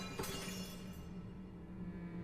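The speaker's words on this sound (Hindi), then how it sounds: "तभी एक जोर से आवाज आई, जैसे कुछ टूट गया हो।" Ceramic teacups and a teapot smash on a kitchen floor, one sudden bright crash followed by a brief scatter of pieces over a steady background hiss.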